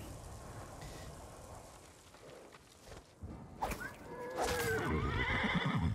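A horse whinnies loudly near the end after some hoof clatter and whooshing movement as kunai are thrown at it in Ghost of Tsushima, with windy game ambience in the background.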